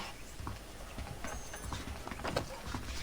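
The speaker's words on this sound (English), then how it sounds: "The horses are saddled up over here." A horse's hooves clip-clop steadily on the ground in the Western video game Red Dead Redemption, with a regular, moderately close rhythm and no talking over it.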